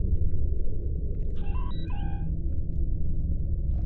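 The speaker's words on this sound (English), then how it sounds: "That's the sound of me trying to transport that failed." A failed transporter attempt in Star Trek Online on PlayStation 5: a brief shimmering, warbling electronic tone cluster over a steady low ambient rumble, standing alone with no talk.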